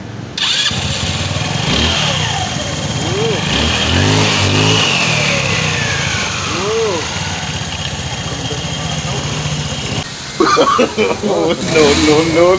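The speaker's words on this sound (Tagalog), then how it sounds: "Start your engine." A motor scooter, an Easyride 150n, cranks to life and revs several times, the engine note rising and falling in swells before settling, with people talking nearby.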